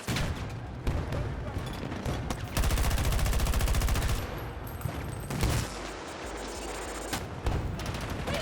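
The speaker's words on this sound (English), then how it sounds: "He's shooting some shit up." Gunfire in a first-person shooter video game, dense bursts of rapid automatic fire and heavy booms with a sustained machine-gun stretch, loud and continuous.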